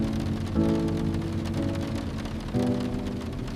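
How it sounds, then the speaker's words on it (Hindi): Heavy rain falls in a Hindi romance drama, a continuous soft hiss of downpour held steady beneath sustained musical tones that swell in a few times. "बारिश काफ़ी ज़्यादा हो रही थी"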